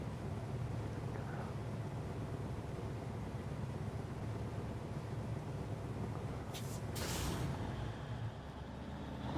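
A truck's air brake releases in the SnowRunner game as a short, sharp hiss of escaping air. It bursts out once near the end over a steady low engine rumble, and no one speaks.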